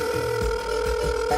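Outgoing phone call ringback tone, a repeating electronic ringing pattern heard close and steady over faint background noise, with no one answering.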